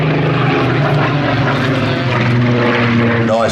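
A Supermarine Spitfire PR.XIX with a Rolls-Royce Griffon engine makes a low pass at an air festival, its loud, steady propeller drone filling the air throughout, with faint commentary underneath.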